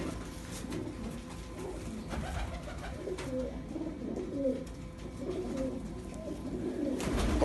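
Old pigeons cooing in a loft, a steady run of soft low coos close by over light background noise, with no talk.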